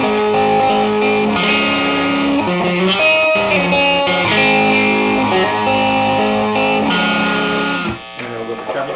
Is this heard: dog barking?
no